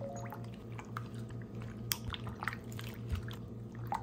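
Pork belly is worked through a wet marinade of garlic powder, lemon and pepper, giving soft squishing and sticky squelches with small liquid drips. The sounds stay close and low and continue without talk.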